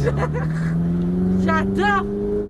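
A Ferrari engine on a racetrack climbs steadily in pitch as it accelerates, with rising gear whines near the end, while a driving instructor talks over it.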